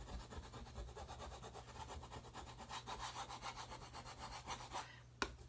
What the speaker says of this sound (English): I'm going to take my scraper and just kind of scrape off